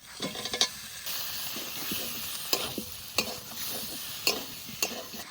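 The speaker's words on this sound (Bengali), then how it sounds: "মশলার মধ্যে আলু দিয়ে একটু নাড়াচাড়া দিয়ে দিলাম" Fried potato pieces are stirred through a fried paste of spices, salt and turmeric, giving a steady close sizzle with sharp scraping strokes of a spoon against the pan at irregular intervals.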